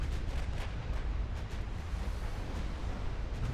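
Warship main guns firing in the naval game Ultimate Admiral Dreadnoughts: a steady, loud low rumble of distant cannon thunder with faint repeated booms running through it.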